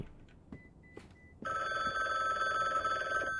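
A telephone in the game The BookWalker: Thief of Tales starts ringing after a few faint clicks, a loud continuous electronic ring that carries on steadily with no voices.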